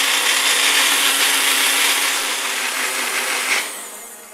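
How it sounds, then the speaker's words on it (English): A kitchen blender whirs steadily while blending tahini sauce, its loud continuous motor hum holding for several seconds before easing off and winding down near the end. "It will go in here, and we will blend everything nicely."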